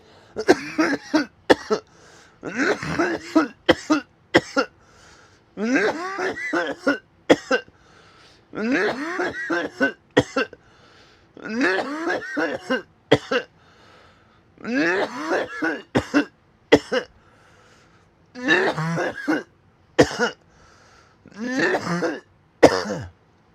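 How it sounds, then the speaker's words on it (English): Repeated harsh coughing fits and throat clearing, close to the microphone, coming in bursts with brief pauses between them. "Normally I'd mute through a big cough like that"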